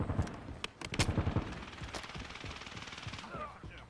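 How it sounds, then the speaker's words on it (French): Gunfire in the video game Warzone, rapid bursts of automatic fire followed by scattered shots, fairly close and loud over a steady game background. "Ici des tirs."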